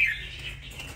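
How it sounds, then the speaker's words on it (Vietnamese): Red-whiskered bulbul (chào mào) giving a brief clear whistled note at the start, followed by fainter softer calls over a low background hum. "Con này cái chất giọng cực kỳ chuông và ấm anh em ạ."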